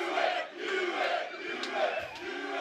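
A fired-up crowd at a BUCS Super Rugby match between Cardiff Met and Durham roars and chants in rising and falling waves, distant and sustained, with no clear speech.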